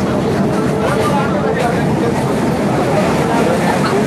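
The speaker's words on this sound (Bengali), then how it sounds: "স্পিডে যাচ্ছে ট্রেন।" Interior of a moving passenger train, a continuous loud low rumble and rattle throughout, with faint background voices.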